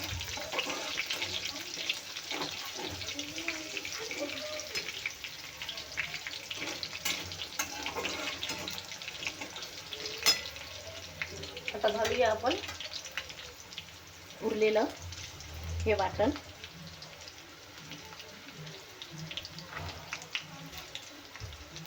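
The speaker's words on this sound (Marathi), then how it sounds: "हे चांगलं आपल्याला तेलात फ्राय करून घ्यायचं आहे" Stuffed eggplant frying in oil in a pan, a steady close hiss and crackle with occasional louder bursts of sizzling, while a person speaks over it at times.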